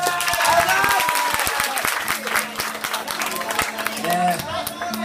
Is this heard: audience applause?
yes